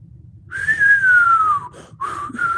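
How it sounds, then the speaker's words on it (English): A person whistles loudly and close, first one long, slowly falling note, then after a brief break two shorter steady notes over a low background hum. "Y'all know that whistle."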